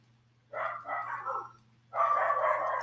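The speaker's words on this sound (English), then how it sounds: "the dogs are really choosing a terrible time to bark" Dogs bark in two short volleys, moderately loud with a steady low hum in the background and no talk over them.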